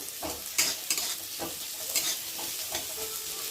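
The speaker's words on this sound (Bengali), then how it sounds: "পেঁয়াজটা একটু ভালো করে নেড়ে দেবো।" Chopped onions stirred and fried in a pan for a spicy semolina (suji) dish: a steady close sizzle with several scraping stirs of the spatula, no voices.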